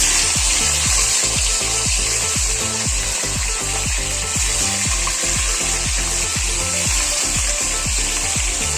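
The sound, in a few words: rohu fish head frying in hot oil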